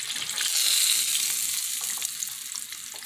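Cheez-It-coated chicken tenders frying in hot oil give a continuous bright sizzle and crackle, steady and fairly close, easing off slightly toward the end.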